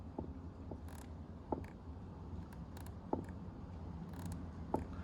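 Faint, sharp clicks and clunks from the failed driver's side door check of a Shelby GT350R, several irregular knocks spaced a second or so apart as the door is worked, quiet and close with no talk.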